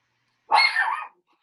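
A single dog barks once, close and loud, in a short sharp woof against an otherwise silent background.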